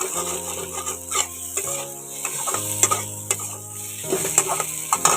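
Spiced potatoes fried in a little oil and stirred firmly, scraping and sizzling close up in uneven strokes, with a low tonal hum running underneath.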